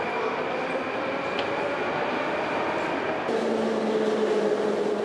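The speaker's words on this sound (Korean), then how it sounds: "운행 중인 열차에는 전깃줄이 없다." A Moscow metro subway train runs underground, a loud continuous rumble and roar with a steady hum that shifts in tone partway through.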